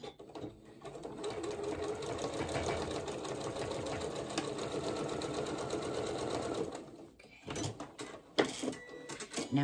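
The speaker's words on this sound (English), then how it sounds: "And sew up your little seam" A home sewing machine stitches a seam with elastic on black pajama pants, giving a continuous rapid mechanical whir for several seconds, then stopping for a few fabric rustles and clicks.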